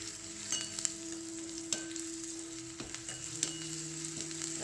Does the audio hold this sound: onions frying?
yes